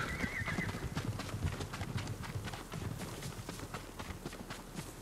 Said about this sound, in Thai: มีม้า